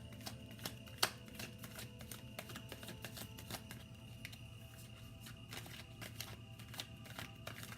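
Tarot cards being shuffled and drawn, giving soft, scattered flicks and snaps over a steady low background hum, close but quiet throughout.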